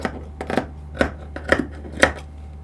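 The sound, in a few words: scissors cutting fabric for a dress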